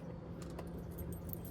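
Keys jangle and clink continuously for a moment, close and moderately loud, in a parked RV at a lakeside park, with no talking.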